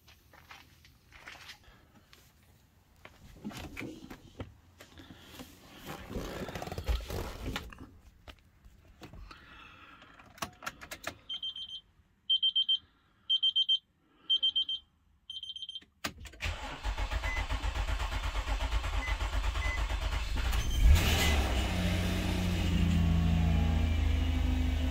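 A 2003–2007 Nissan Murano AWD, freshly fitted with a replacement engine and transmission, is started for the first time. A few short beeps sound, then the engine cranks and catches into a steady, loud idle up close, with a faint whine running beneath it.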